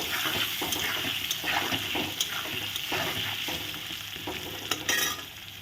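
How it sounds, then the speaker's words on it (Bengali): Something frying with salt and turmeric in a pan for a vegetarian dhokar dish, a steady sizzle under repeated scraping stir strokes, close and fairly loud with no talk. "লবণ হলুদ দিয়ে এখন ভালো করে ভেজে নিচ্ছি"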